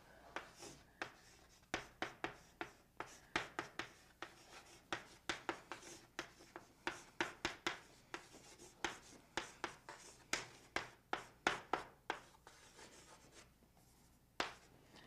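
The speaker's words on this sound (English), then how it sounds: "Let me go and write it out." Pen or pencil writing out calculus work by hand on paper, a steady series of short scratchy strokes in quick irregular bursts, close and fairly faint, with no talking.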